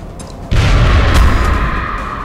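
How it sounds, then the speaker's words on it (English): A grenade goes off in a sci-fi squad strategy game, one loud, deep boom that hits suddenly and rumbles on as a long decaying roar. "I'm going to go up and toss a grenade"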